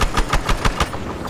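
Rapid bursts of automatic gunfire crack in a quick, regular rhythm in the video game Battlefield Hardline, loud and close, with no talking.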